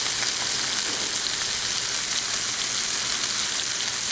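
A chicken breast for Chicken Normandy sears presentation side down in a hot pan, giving a constant, loud, even sizzle with no pauses.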